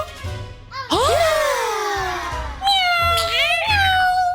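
A cartoon cat gives several loud, drawn-out meows, one rising then sliding down, followed by shorter mews, mixed with children's voices talking.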